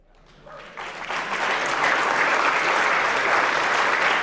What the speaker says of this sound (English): Please welcome to the St. Louis Sports Hall of Fame with your applause, Coach Jay Harrington